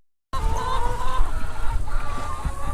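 Chickens cluck and murmur close by after a brief silence, several birds overlapping in a busy, continuous chorus of short calls.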